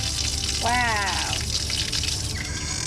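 Water gushes from an outside sink tap with good water pressure in the Philippines, a steady broadband rush that fills the whole stretch, with a brief rising voice sound near the start.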